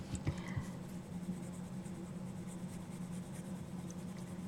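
Colored pencils lightly shading paper in a Christmas coloring book, with very gentle pressure and small circular strokes. Gives a faint, steady, soft scratchy rustle that continues throughout with no voices.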